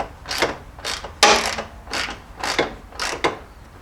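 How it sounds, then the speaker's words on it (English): A wrench ratchets in bursts as a 1/2-inch bolt with a 3/4 head is snugged down on a Jeep XJ steering box spacer, about six close, loud clicking strokes in a steady rhythm with no talking. "Now I'm just going to snug up this bolt back here."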